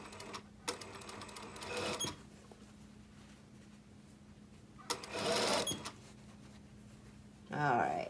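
Short bursts of a sewing machine running forward and back to tack a seam on a knife-edge bolster, separated by quiet pauses with a steady hum underneath.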